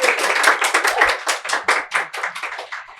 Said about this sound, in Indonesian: Boleh gak sih kita tepuk tangan dulu